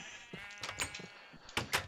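Sheep in a video game bleat several times in short, fairly faint calls with small gaps, heard alone without talk.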